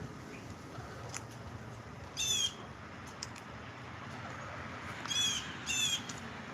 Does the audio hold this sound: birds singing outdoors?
yes